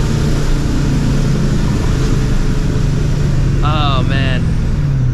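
A supercharged 2004 Ford Mustang GT on the move, its engine holding a loud, steady low drone from start to finish, with a brief high squeal near the end.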